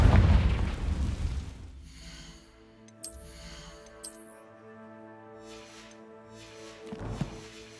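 A Confringo fire spell bursts with a deep explosive boom in Hogwarts Legacy, a loud low blast at the start that rings out into a sustained tonal decay, with further sharp magical bursts and a second rumble near the end.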